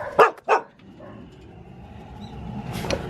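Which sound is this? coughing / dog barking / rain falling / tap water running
dog barking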